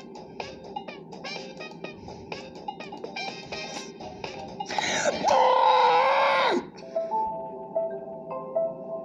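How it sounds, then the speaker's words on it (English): A person playing the game Geometry Dash lets out a long, strained scream of frustration, loud and close, following a stretch of quick game sounds and muttering, then trailing into quieter groans. "Just me screaming?"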